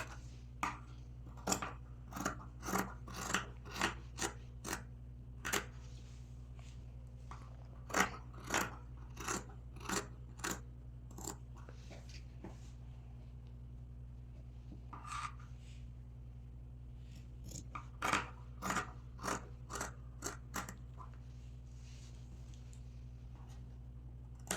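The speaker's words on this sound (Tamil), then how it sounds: "இப்போ இந்த எக்ஸஸை கட் பண்ணி எடுத்துக்கலாம்." Scissors snip away excess fabric from the centre seam of a maxi dress, leaving a quarter-inch seam allowance; crisp cutting clicks come in quick bursts against a steady low machine hum, with no talking.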